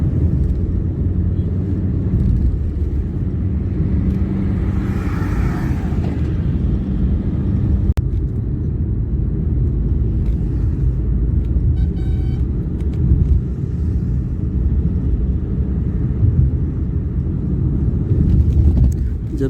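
A car carries passengers along a smooth road toward Haridwar in Uttarakhand, giving a steady low rumble of engine and road noise with wind buffeting throughout. Faint voices come and go beneath it.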